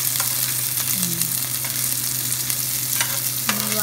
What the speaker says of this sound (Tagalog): so ilalagay na po natin ang ating sibuyas at luya